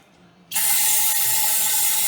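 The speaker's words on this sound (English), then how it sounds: "Let's put this on the straw where I can pinpoint where I'm spraying." A short silence, then a sudden sustained hiss of aerosol spray through a straw nozzle on a 1965 Chevrolet C10 pickup, loud and steady until the end.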